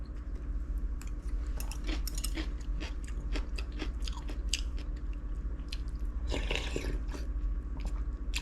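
Someone eating a meal of meat, bone broth soup and granola, with close, steady chewing and crunchy bites repeating throughout over a constant low background hum.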